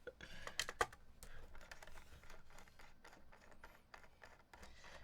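Typing on a Honeyboard HB60 mechanical keyboard gives a quiet, continuous patter of keystrokes with uneven rhythm and a few sharper clacks early on. No one speaks.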